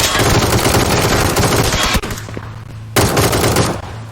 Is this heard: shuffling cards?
no